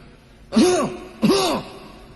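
Two short, throaty cough-like bursts made by a voice, about half a second apart, imitating a cough.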